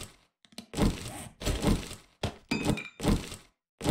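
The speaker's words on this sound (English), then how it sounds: "Well, reload your handgun." A handgun is reloaded in the survival video game 7 Days to Die, with a few short, close mechanical clacks and thunks in quick succession and brief silences between them.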